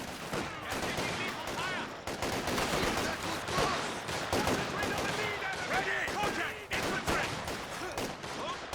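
Machine gun fire and other gunfire in the Company of Heroes 2 strategy game, bursts of rapid shots over dense, continuous battlefield noise at moderate level.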